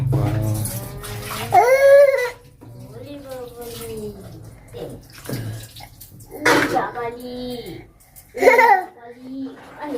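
Tap water running while washing up at home, a steady low splash beneath a woman's and a child's chatter, fairly close and continuing throughout.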